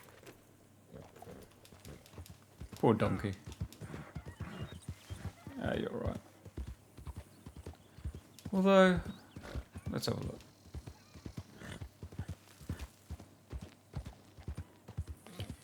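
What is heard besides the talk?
horse galloping and whinnying in a video game (Dragon's Dogma 2)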